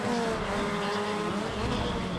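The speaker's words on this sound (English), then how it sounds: "Oh no, the Peugeot sounds good." A Peugeot car engine in the racing video game Need for Speed: ProStreet gives a continuous, fairly loud droning roar with slowly shifting pitch and no voices over it.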